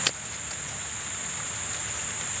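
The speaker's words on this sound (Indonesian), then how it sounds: "lagi turun hujan ini, guys" Steady soft hiss of rain falling on a cornfield, with a high constant insect-like whine running throughout; no voices.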